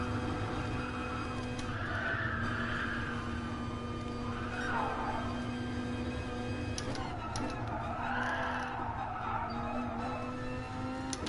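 Race car sliding sideways through a corner in Gran Turismo Sport, with steady engine drone and intermittent tire squeal swelling and fading, heard close from the cockpit.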